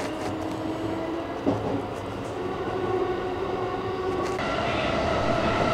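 Kominato Railway KiHa 200 diesel train running, heard from onboard as a steady rumble of wheels and engine with a brief clunk, continuous and close with no talking.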